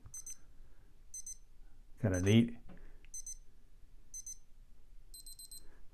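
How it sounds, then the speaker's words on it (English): Casio SKX-1300 watch countdown timer giving short, high electronic beeps once per second, a faster trilling run at the end, with a brief burst of speech in the middle. "So every second the red light beeps."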